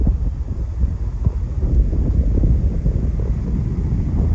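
Steady wind buffets the microphone at Laboe on the German Baltic coast, a loud, low, continuous rumble with no voices.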